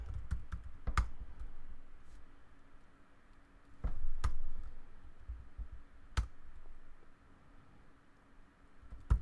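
A command is typed on a computer keyboard in scattered bursts of sharp, close key clicks separated by quiet pauses, with faint background hiss and no speech.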